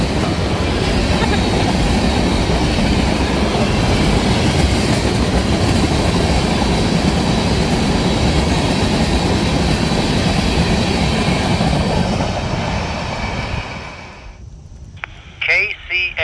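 A CPKC southbound manifest freight led by four locomotives rolls past at speed in Mansura, Louisiana, a loud steady roar of wheels and cars that cuts off abruptly near the end, leaving quieter sounds.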